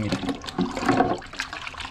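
Hot water pours and splashes over a paint spray mask, a continuous liquid rush with gurgling, while a person speaks briefly over it.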